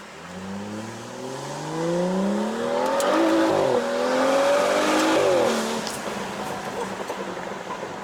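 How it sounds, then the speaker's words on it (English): Turbocharged BMW 335i F30 with a Stage 2+ tune and stock muffler, heard from inside the car as the engine climbs steadily through the revs under acceleration, peaks loudly for a few seconds, then eases off into a lower drone. "And you can hear the turbo too."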